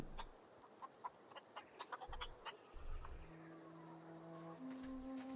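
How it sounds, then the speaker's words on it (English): Chicken clucking in the video game The Outer Worlds: a series of short, scattered clucks and chirps over a steady ambient hum with tonal game sounds, no speech. "Hello, chicken."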